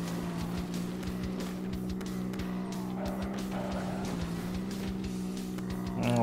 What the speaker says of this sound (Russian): Все, купили двигатель и едем дальше.